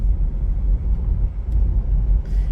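A pickup truck drives along with one tire overinflated and the other underinflated, giving a steady, loud, low road rumble and engine drone with no talking.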